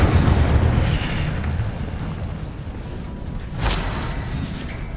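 In the game Hogwarts Legacy, the Incendio fire spell is cast as a burst of whooshing, rumbling flame, loud at first, then easing before a second bright flare near the end.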